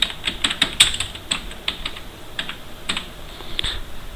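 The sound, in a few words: typing on a computer keyboard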